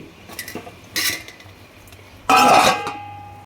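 Metal kitchenware clinks twice, then a louder clatter as a lid is set down on a pot of village chicken rasam, with a faint ringing tone afterward.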